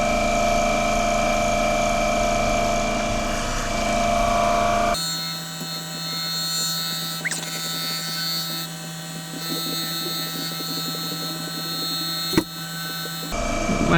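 A wood lathe spins at 1500 RPM while turning laburnum with copper inlay, giving a steady tonal hum and drone that runs throughout, with a sudden shift in character partway through and a brief knock near the end.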